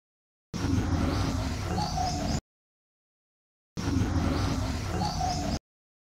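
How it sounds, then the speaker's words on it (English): Birds chirping in the background of an interview recording, heard in two separate short stretches of outdoor ambience with scattered tweets and a possible coo, each cut off abruptly by silence. "Now let me check for more bird sounds."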